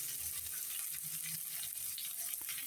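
Onion, green chili, garlic and ginger frying in a pan, a soft continuous hiss and crackle at close range with faint stirring, no talk.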